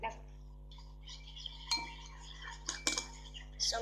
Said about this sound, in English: So mix it well